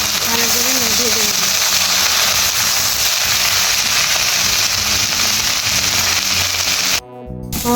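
Saag greens fry in a pan with a loud, constant close sizzle and crackle, until a brief sharp cutoff near the end.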